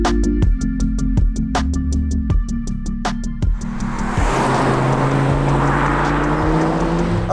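A turbocharged Volvo C70 T5 pulls away. A regular ticking pulse comes first, then the engine rises into a loud, continuous drone with a rushing hiss as the car picks up speed.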